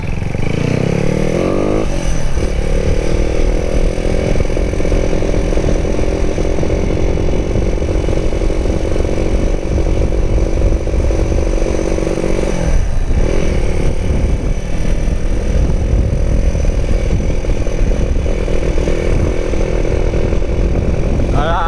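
A white Honda Megapro motorcycle engine runs loud and close for about twenty seconds, held at high revs with a steady raspy drone and one brief dip partway through.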